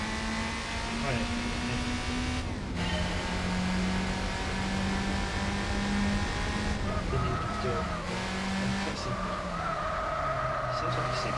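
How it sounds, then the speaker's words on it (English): Racing game engine in Gran Turismo 4, a six-cylinder race car droning steadily under talk, with pitch rising through gears and dropping at shifts, tyres briefly squealing. "Sounds like a 6 cylinder."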